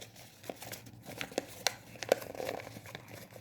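Paper being folded into an origami box, heard as soft, close crinkles and sharp crisp creases in irregular bursts, quiet and without talk.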